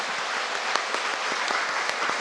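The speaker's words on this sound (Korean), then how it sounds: "우리 교사님, 우리 박수 한번 크게 한번 우리 부탁드리겠습니다." Church congregation at a teachers' dedication service claps together, a steady dense patter of many hands filling the room without pause.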